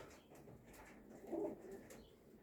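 A soft, low pigeon coo rises briefly in a quiet, muffled pigeon loft, a single short call with faint background noise.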